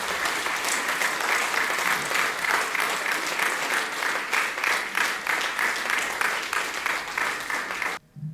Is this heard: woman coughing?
no